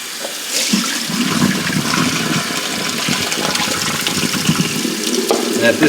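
Running tap water splashing steadily and close as sprouts are rinsed, with a swishing rinse that builds slightly toward the end.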